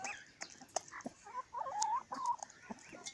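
Light Sussex chickens cluck and murmur close by, several birds with rising and falling calls and a few sharp clucks, over a quiet farmyard background.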